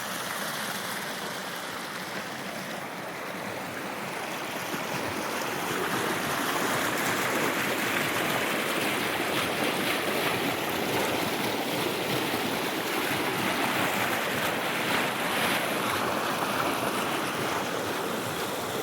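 Small river on the Narmada parikrama route rushing over rocks and little waterfalls, a steady broad roar of flowing water that stays constant and fairly loud throughout, with no talk.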